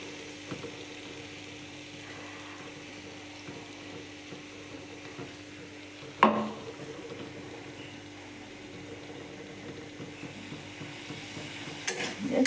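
Spices, salt and oil stir-fried in a pan for a potato and fish curry give a steady, moderate sizzle, with a couple of sharp utensil knocks against the pan.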